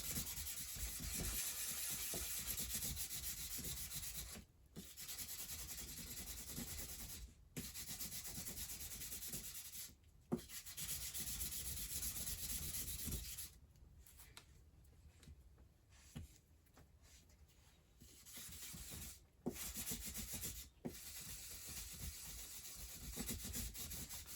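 A small knife blade is drawn over a sharpening stone in long, steady abrasive strokes, a continuous close rasping broken by brief pauses between passes.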